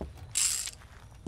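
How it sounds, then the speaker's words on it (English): A weapon reload in the shooter game Greyhill Incident, heard as a single burst of metallic mechanical clicking and sliding lasting about a third of a second, fairly loud and close, with quiet background before and after. "Reload."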